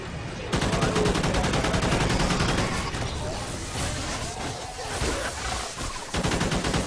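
Call of Duty: Ghosts multiplayer gunfire with powerful ammo, a loud, sustained automatic barrage of rapid, evenly spaced shots that barely pauses, brief dips near the end, a voice faintly underneath.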